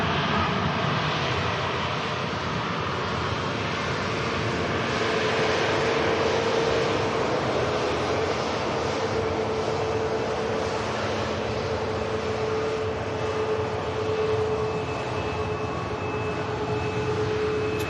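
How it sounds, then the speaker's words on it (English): Jet engines whine and rumble at Manchester Airport as a Ryanair airliner taxis and a Lufthansa A319 lines up, a steady, loud drone with a sustained tonal hum throughout. "And this is the Ryanair on the taxi for Paris Beauvais as the Lufthansa 319 lines itself up."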